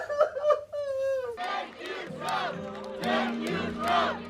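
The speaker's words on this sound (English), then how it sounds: "Cheers erupted in Hostage Square in Tel Aviv as crowds gathered to watch coverage of the hostages' return" Crowd gathered in Hostage Square in Tel Aviv cheering and shouting together in sustained waves, with a few raised voices rising out of the mass at the start, loud and close throughout.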